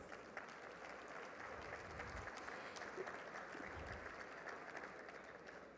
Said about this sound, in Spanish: Por favor, la recibimos con un fuerte aplauso.